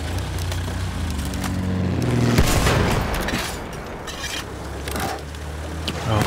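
Short bursts of fire from the Experimental 1918 gun in Battlefield 1 on the Sinai Desert map, booming cracks over a rumbling battlefield, loudest in the middle and fading back into distant noise.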